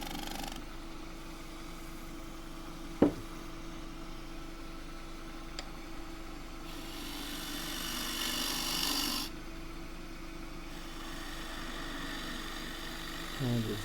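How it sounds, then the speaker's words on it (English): A shear scraper cuts across a green pistachio wood bowl spinning on a lathe, giving a steady, continuous rasping hiss under the motor's hum, with one sharp knock partway through. "so shear scraping with the shear scraper, tilt it up on edge."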